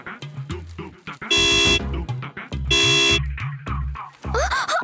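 A car horn blares in two long loud blasts, with clattering and other noises between them and a squeaky sound at the end.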